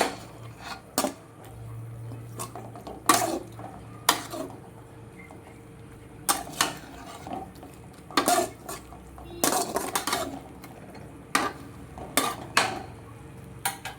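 Okra curry stirred in a pan, a spoon or spatula scraping and clanking against the metal in irregular bursts, with faint sizzling underneath and no talk.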